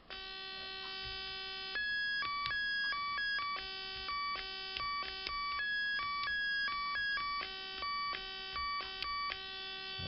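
Square-wave tones from a joystick-controlled Atari Punk Console synth with delay, stepping between a few pitches in choppy, stuttering bursts with echoing repeats, loud and alone.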